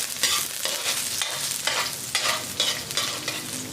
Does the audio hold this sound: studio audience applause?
no